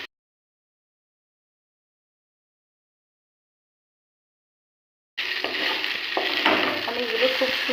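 Banana stem being stirred together with fried papaya and potato in a pan: a steady, close sizzle with scraping stirs, starting abruptly after a long stretch of silence.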